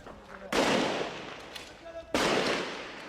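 Two loud, sharp gunshots from a bolt-action AK rifle in a video game, spaced well apart, each followed by a long decaying echo.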